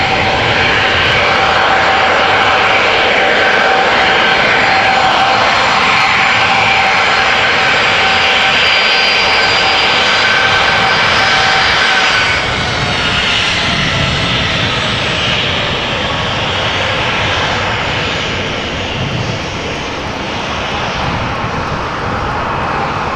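KLM Boeing 737-800 jet landing at Amsterdam Schiphol Airport, a loud sustained engine roar with whining turbine tones that slowly fades and shifts as the aircraft passes, no talking.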